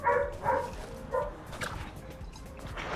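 A dog barks in the Fortnite video game, a few short yips in quick succession at the start, then fading into quieter game noise.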